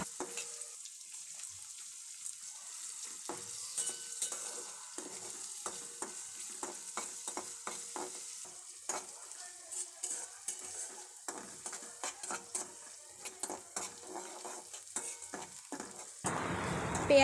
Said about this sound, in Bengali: তেল গরম হয়ে যাওয়ার পর পেঁয়াজ কুচি দিয়ে কিছুক্ষণ ভেজে নেব।